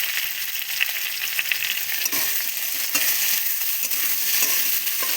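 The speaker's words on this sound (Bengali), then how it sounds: "ভালো করে লাল লাল করে ভেজে নেব।" Eggplant and potato pieces frying in oil with salt, a steady close crackling sizzle with occasional stirring scrapes, continuous throughout with no talking.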